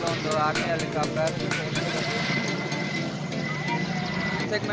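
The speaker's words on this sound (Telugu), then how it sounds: "ఆర్మీ హెలికాప్టర్ చూసారా ఫ్రెండ్స్ ఎట్లా ఉందో." An army helicopter passes over a fort in Goa, its rotor thumping in a steady rapid rhythm as a loud, fairly close drone, with people talking over it.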